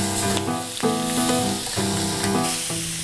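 Carne asada steak sizzling on a very hot grill, a loud continuous crackling hiss with occasional pops and brief shifts as the meat is moved.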